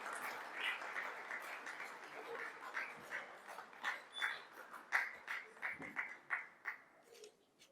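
An audience at a mushaira poetry gathering in Sharjah claps in a faint, distant, irregular patter, rising in bursts and then fading out.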